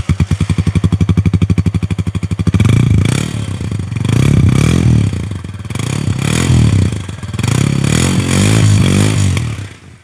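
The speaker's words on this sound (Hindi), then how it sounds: "आपको अब साउंड सुनाते हैं सुपरस्टार फैल्कन 150 का।" A Super Star Falcon 150 motorcycle on its stock exhaust runs close by, opening with a steady idle thump before a series of loud revs that rise and fall for the rest of the clip.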